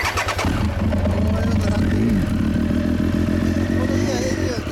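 A 1997 Triumph Daytona T595 motorcycle with an Akrapovic exhaust fires up close by with a deep, rumbling idle and a throaty, loud exhaust note that holds steady.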